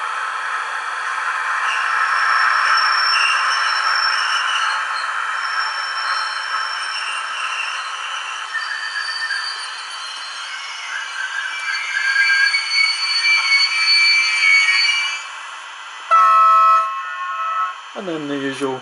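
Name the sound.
arriving freight train sound effect, Roco Br186 DCC model locomotive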